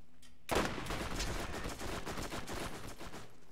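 Sustained rapid gunfire from a gun in the video game Borderlands starts abruptly and continues as a dense, steady burst of shots for about three seconds, fairly quiet overall, with no talking.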